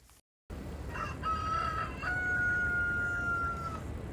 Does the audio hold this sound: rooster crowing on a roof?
yes